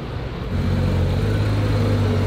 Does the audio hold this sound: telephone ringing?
no